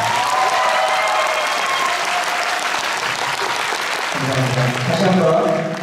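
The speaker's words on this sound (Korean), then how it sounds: "이번에는 여기서 큰 박수 한번 부탁드립니다" An audience applauds at a navy anniversary concert in an indoor hall. The clapping is dense and sustained and fills the room, and a voice carries over it.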